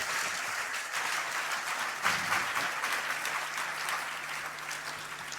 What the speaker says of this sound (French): Acclamez taoor les Lévites